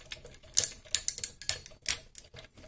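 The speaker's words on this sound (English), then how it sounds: "We're just going to fold up his arms." Plastic toy robot arms are folded up, giving a quick run of sharp, close clicks and ratchety snaps in an uneven rhythm over less than three seconds.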